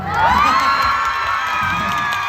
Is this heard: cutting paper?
no